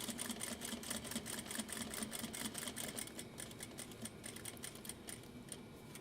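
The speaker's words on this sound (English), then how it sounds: "do a little top stitching, or a little back stitching" A sewing machine back stitching a Noodlehead Yarrow pouch, its needle chattering in a fast, even mechanical rhythm, close and moderately loud, slowing slightly partway through.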